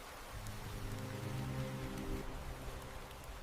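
Gentle rain pattering steadily over an osprey nest, a soft continuous wash of drops with a low tonal hum running underneath through the middle of the stretch.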